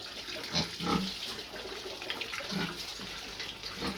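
Pigs kept for sale, which also eat mangoes, grunt and snort in short, irregular bursts over a constant background of running, splashing water, close to the microphone with no talking.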